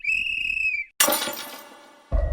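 A sustained shrill whistle blown at night by a young man imitating a night watchman, steady and loud for nearly a second, followed by an abrupt crash of breaking glass and a low thump.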